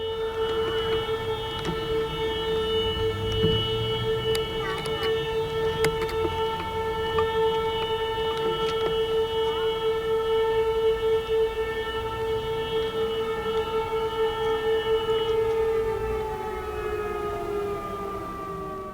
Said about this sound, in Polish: Rozpoczęło je wycie syren upamiętniających godzinę W.